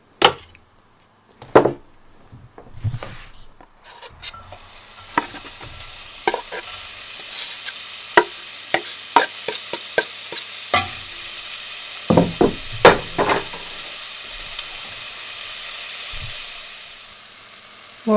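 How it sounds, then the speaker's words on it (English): Six to eight slices of bacon frying in a pan for German potato salad give a steady close sizzle, broken by sharp scraping knocks of a utensil against the pan and occasional pops, with no speech. "I like putting about 6 or 8 slices of bacon on the frying pan for our German potato salad."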